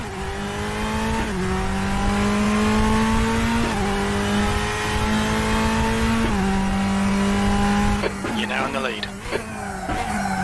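A simulated race car laps the Zandvoort circuit in RaceRoom, its engine note loud and steady, rising through each gear before dropping at shifts, with a messier burst of downshifting and tire noise near the end; someone talks over it.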